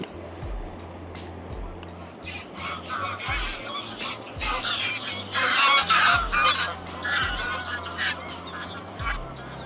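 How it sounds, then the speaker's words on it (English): Geese on a riverside farm by the River Trent honk repeatedly in a noisy flock, loud and close, with calls overlapping in bursts that swell toward the middle. "Farmer scaring the geese."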